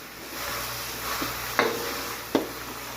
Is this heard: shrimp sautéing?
yes